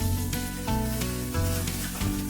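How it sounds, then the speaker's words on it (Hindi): Mustard seeds, curry leaves and broken whole red chilies spluttering in hot oil for a chana chaat tempering, with a steady sizzle broken by repeated sharp pops and crackles close by. "अलाउ दिस टू स्प्लटर और इसे ऐड कर दीजिए अपनी चना चाट में"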